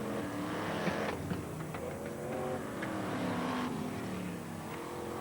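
BriSCA Formula 1 stock cars circling Northampton's oval on a slowing-down lap in 1987, a steady blended engine roar from several cars at mid distance, fairly constant with mild swells as they pass.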